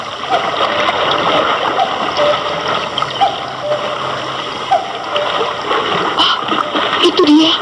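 Widening river water splashes and laps around boats in a radio drama sound effect, a continuous bright wash with scattered sharper splashes under a speaking voice.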